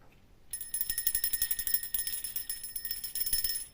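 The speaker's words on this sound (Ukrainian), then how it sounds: "Так, це наш дзвоник." A small bell rings continuously in a fast, bright jingle, steady and fairly close, starting after a short quiet moment in a children's music class.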